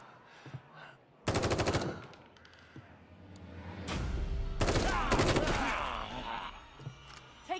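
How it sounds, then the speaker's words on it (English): Rapid automatic gunfire from The Evil Within 2 rattles in loud bursts during a defense against zombies, with a sharp opening burst, then a long sustained stretch of shooting mixed with game sounds. "Keep shooting until they're dead or we run out of ammo."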